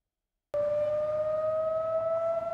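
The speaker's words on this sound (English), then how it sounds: "this is what the Torrance community would hear as part of the neighborhood outdoor warning system if there were an emergency" Torrance Now outdoor emergency warning siren sounding a test, switching on abruptly after a half-second of silence into a loud, steady, sustained electronic tone that holds unbroken to the end.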